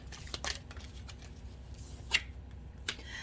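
Tarot cards shuffled by hand, giving soft, faint papery riffles and a few sharper flicks spaced irregularly over a low background hiss.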